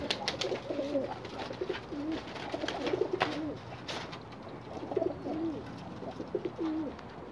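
Mixed-breed pet pigeons, including red-eyed and golden birds, coo in repeated soft, throaty phrases over about seven seconds, with overlapping calls from several birds fairly close by and no talking.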